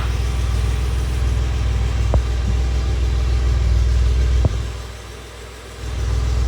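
A radiator cooling fan whirs steadily on a hot, idling rear-engined Alpine, a continuous low engine rumble with a fan hum layered over it and two brief clicks. The level dips near the end, then rises again.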